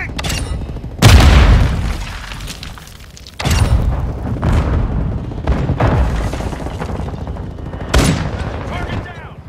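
Grenade explosion and gunfire in Call of Duty: Modern Warfare II, with several loud booms and bursts, the first near the one-second mark, over a constant din of battle.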